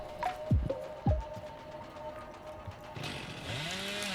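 Chainsaw from a Texas Chainsaw Massacre video game: two sharp low thumps, then the saw's engine revs into a rising, wavering whine toward the end, amid game background ambience.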